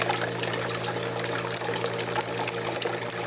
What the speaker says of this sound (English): The water is draining out of the bucket and into the bin.